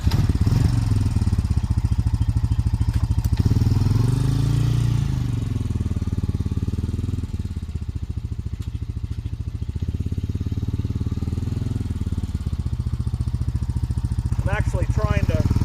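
A four-wheeler engine idles and revs close by as it tries to spin its tires on Vevor aluminum loading ramps at a truck tailgate, a loud throbbing drone that rises and falls, with a voice speaking over it.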